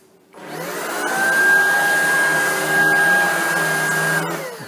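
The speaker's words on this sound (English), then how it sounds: "One of the first things we like about this machine is that it operates as a stick vacuum and also a handheld vacuum." Shark Rocket Pro cordless stick vacuum switched on in stick mode, its motor spinning up into a loud, steady whine with an airy rush, holding constant before winding down at the end.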